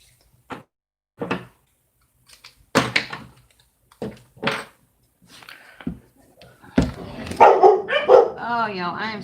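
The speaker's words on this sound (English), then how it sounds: "I am so sorry for the dogs" Several dogs bark in short separate bursts, then break into a denser, louder volley of barks and yips at the end, with some talk mixed in.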